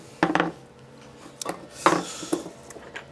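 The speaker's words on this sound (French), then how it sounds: "je vais simplement mélanger tous les ingrédients secs" Dry gingerbread ingredients, flour and sugar, being stirred together in a bowl, giving a few scraping, rubbing bursts with short pauses between, close and fairly quiet.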